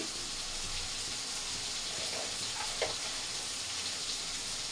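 Curry leaves frying until crisp in hot oil for chicken gravy, a steady hissing sizzle, even and moderately quiet, with a faint stir or pop midway and no speech.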